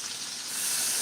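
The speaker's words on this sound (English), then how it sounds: "And that's gonna sizzle pretty good." Steady broadband sizzling hiss of garlic frying in a hot pan, rising slightly in loudness partway through.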